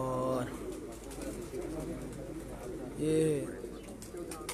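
Pigeons coo on a rooftop loft, two short bursts of soft, rounded cooing at the start and again near the end, with faint bird calls in between and a voice speaking over the scene.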